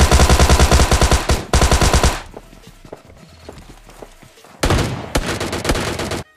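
Rapid automatic gunfire from PUBG Mobile Lite in a stadium area, two loud close bursts of fast shots, a pause with scattered quieter sounds, then another burst of shots.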